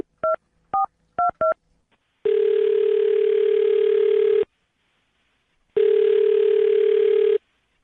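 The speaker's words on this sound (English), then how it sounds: "I'm going to dial her phone number right now." Telephone keypad tones beep in four quick bursts as a number is dialed, then two long steady ringback tones sound with a silent gap between them, clear and alone with no voices.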